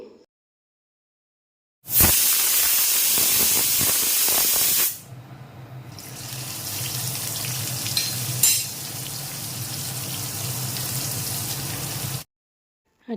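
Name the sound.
oil heating and sizzling in a kadai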